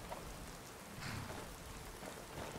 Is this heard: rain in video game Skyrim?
yes